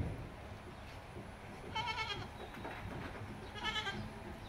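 A Haryana cross goat bleats twice on a goat and sheep farm, the calls fairly close over a low background rumble.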